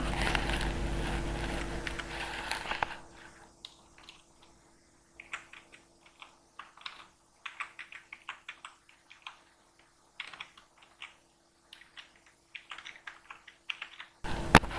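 Code is typed on a computer keyboard in quick irregular bursts of soft clicking keystrokes, close and quiet, with short pauses between runs after a brief stretch of louder rustling noise.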